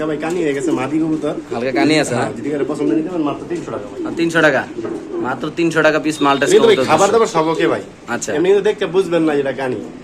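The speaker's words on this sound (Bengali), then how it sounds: "এখানে আছে এক পিস মাল্টেস কবুতর অ্যান্ডোনেশিয়ান" An Indonesian Maltese pigeon coos at a wholesale pigeon sale, its soft calls mixed in beneath steady, close conversation between people.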